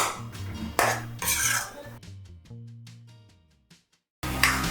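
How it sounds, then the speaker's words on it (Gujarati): A spoon scrapes and clinks against a pan while eggplant bharta is stirred and roasted, a few loud metallic strokes with ringing tones that fade between stirs. "હવે આને એકદમ તેલ છોડે ત્યાં સુધી સતત હલાવતા રહીને શેકવાનું છે"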